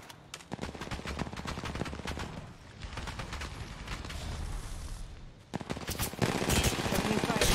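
Rapid automatic gunfire from Apex Legends Mobile, with bursts of close, loud shots that pause briefly and then resume harder, alone with no talk.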